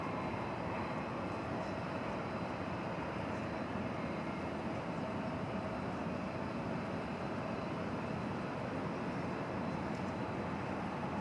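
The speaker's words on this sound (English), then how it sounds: "the Polar Air cargo plane of which we spoke earlier is now on the move" A Polar Air cargo plane taxiing at DFW Airport at night, heard as a continuous broad jet engine roar, steady and fairly distant, with no voices.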